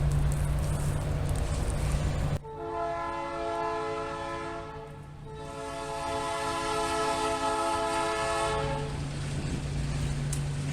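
A train horn blares long and loud, fading briefly before sounding again, over the heavy rumble of a passing train.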